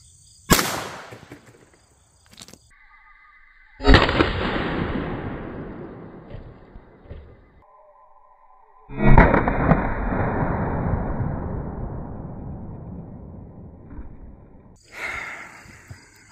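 Pistol shots fired at one-gallon water jugs, working up through .22 LR, .380, 9mm, .40 S&W and .45 ACP; a few sharp loud cracks with long decaying echoes spaced several seconds apart, no talking.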